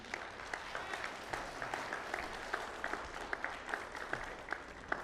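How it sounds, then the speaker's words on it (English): A church congregation claps during a sermon, a soft, steady patter of many hands heard at a distance, with occasional sharper claps rising above the wash. "And you all jumped the gun with clapping"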